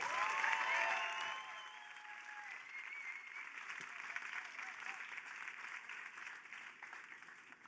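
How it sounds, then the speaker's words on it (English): A festival audience applauds as a speaker is welcomed to the stage, steady dense clapping from a large crowd that starts loud and eases slightly, with a few brief voices and cheers near the start. "A big round of applause for Eileen."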